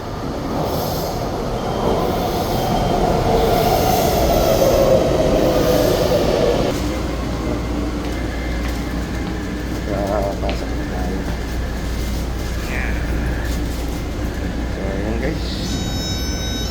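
A Taipei metro (MRT) train rumbles into a station, brakes and wheels squealing as it slows, followed by a steady hum with faint electronic tones.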